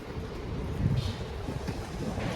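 Wind buffets the microphone in a steady low rumble, with faint water or boat noise in the background, recorded out on the water.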